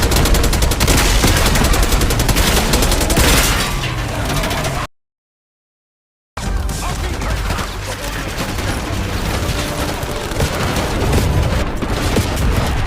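Dense battle gunfire in the Black Ops 6 campaign, rapid machine-gun bursts and booms crowding together loudly, broken by a brief total silence before the barrage resumes just as intensely.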